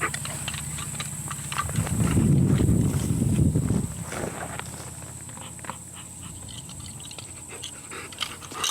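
A dog pants heavily nearby in an outdoor setting, rapid breathy puffs that swell for a couple of seconds before fading into quieter background wind and faint noise.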